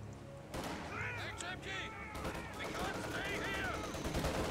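Machine gun fire in the Company of Heroes 2 strategy game, dense rattling bursts under a busy battlefield mix of explosions and unit voice lines, continuous throughout.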